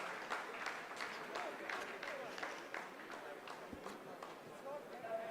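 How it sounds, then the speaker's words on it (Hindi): Scientists clapping in the mission control room during the Chandrayaan-3 lunar landing, a steady wash of many hands applauding at once, continuous and fairly even throughout with a busy crowd feel. "आप इस तालियों के गड़गड़ाहट को सुन सकते हैं"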